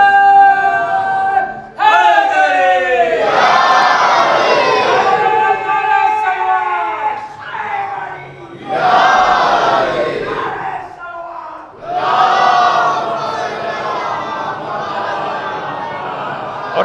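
A congregation at a majlis loudly recites salawat in unison, several swelling chanted bursts separated by short pauses, a large crowd of voices close and forceful.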